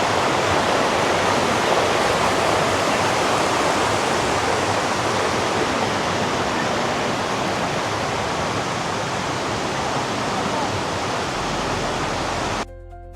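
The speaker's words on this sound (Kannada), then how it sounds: "ಮುನ್ನೂರು ಅಡಿ ಎತ್ತರದಿಂದ ಬಹಳ ವೇಗವಾಗಿ ಮೇಲಿಂದ ಕೆಳಗಡೆ ಬೀಳುವಂತಹ ನೀರನ್ನು ನೋಡುವಂಥದ್ದೇ ಮನಸ್ಸಿಗೆ ಆನಂದ" Kudlu Theertha waterfall drops water from about three hundred feet. A dense, steady roar fills the whole stretch at close range and stays loud and unbroken, with no voices.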